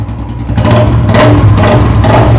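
A second-hand motorcycle engine runs close by with a deep, loud rumble, revving in a few repeated surges over a steady idle, with no talking.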